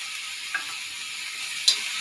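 Cashews, garlic and ginger fry in a pan for a paneer gravy, giving a soft, steady sizzle with two faint clicks partway through.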